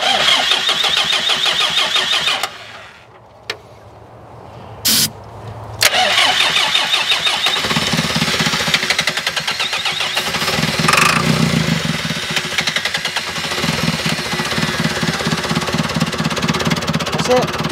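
An old, roughly 40-year-old telehandler engine cranks, briefly cuts out, then catches and runs with a loud, steady, rough mid-pitched rumble and clatter up close, while people speak intermittently over it.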